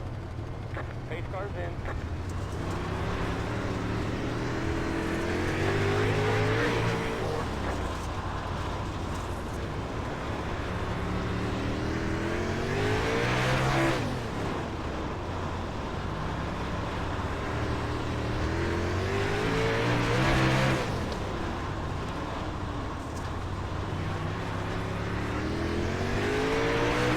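Super late model race cars roar around the Limaland track in a loud, continuous engine drone that rises and falls in pitch as the pack passes, while an announcer talks over it.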